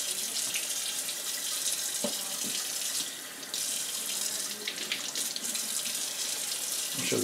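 Tap water runs steadily into a sink as seeds are rinsed off a piece of pickled pepper, a continuous close splashing hiss with small shifts in the flow and no talk.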